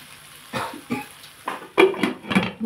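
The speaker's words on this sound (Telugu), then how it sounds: "మూత పెట్టేస్తున్నాను" A metal lid set onto a cooking pot of ridge gourd and tomato for chutney on a stove, giving a few light clanks and clatters close by, with a couple of sharper metallic knocks near the end.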